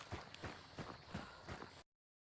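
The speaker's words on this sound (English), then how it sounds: "We can hear the footsteps clear as day where he is." Another player's footsteps in a multiplayer video game: five evenly paced, thudding steps at a walking rhythm, fairly close and distinct, then the sound cuts off abruptly.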